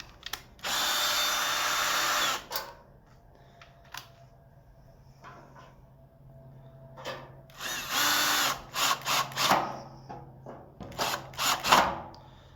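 Cordless power drill backing screws out of a Blackstone griddle bracket: one long whir near the start, then a cluster of short bursts and stops with faint clicks between, close and alone.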